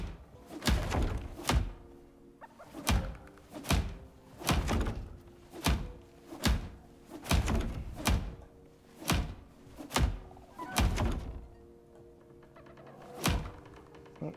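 Repairing a structure in the survival game Icarus: a steady series of about a dozen heavy, hollow thunks, evenly spaced roughly a second apart, close and fairly loud with a brief pause near the end.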